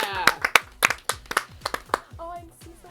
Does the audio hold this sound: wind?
no